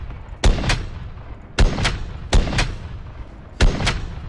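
Barrett M82 .50 cal rifle fired in Fallout 4, four loud, sharp booms spaced roughly a second apart, each followed by a quick echoing crack and decay.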